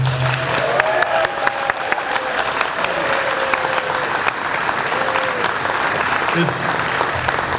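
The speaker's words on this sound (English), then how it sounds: "give Susan a big round of applause, folks" A loud, dense round of applause from the audience at a school grand opening ceremony, continuous for several seconds with some crowd noise and a few voices mixed in.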